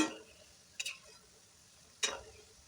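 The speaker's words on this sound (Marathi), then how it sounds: "गॅस कमी जास्त कमी जास्त करून हा तळून घेत आहे" Shankarpali, diamond-shaped dough pieces, frying in oil in a pan on a gas flame: a soft, steady sizzle broken by two sharp scraping stirs, quiet and close.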